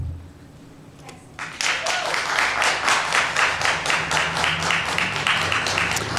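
An audience at a school governing board meeting breaks into steady clapping after a quiet moment, the applause filling the room evenly and continuing for several seconds.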